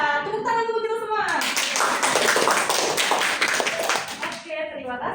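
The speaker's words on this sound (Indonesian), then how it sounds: "Ya, tepuk tangan untuk kita semua." Schoolchildren in a classroom clap together during a lesson, a dense burst of hand claps lasting about three seconds, with voices speaking just before and after.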